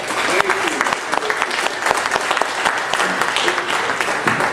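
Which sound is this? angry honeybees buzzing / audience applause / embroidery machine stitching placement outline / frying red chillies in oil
audience applause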